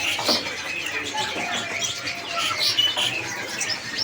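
Many small caged birds chirping and tweeting together at a kiosk in the Pramuka bird market, a busy layered chorus of short calls at moderate distance amid ambient market noise.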